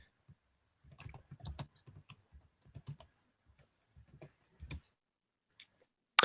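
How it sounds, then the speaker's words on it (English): A message being typed into a chat on a computer keyboard, irregular bursts of close, crisp key taps separated by short silent gaps, ending in a louder clack. "I'll write it down in the chat for you."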